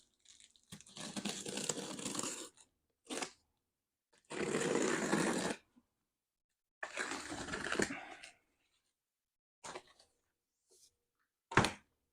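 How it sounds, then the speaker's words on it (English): A cardboard Amazon box is opened up close, with several bursts of rustling, crinkling and tearing separated by pauses, ending in a few sharp thunks and clicks. "Let's open the box and see what comes inside."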